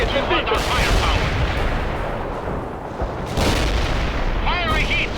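Artillery blasts and gunfire rumble through a World in Conflict battle, a steady din of booms and shots with radio-style voices speaking over it at intervals.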